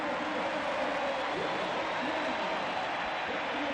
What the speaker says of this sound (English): the applause is second only to Luis Figo's